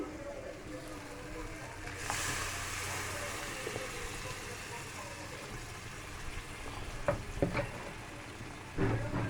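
Green and dried chillies with asafoetida frying in hot oil as a tempering for boiled mung dal, a steady soft sizzle with a few clinks and knocks, faint voices in the background.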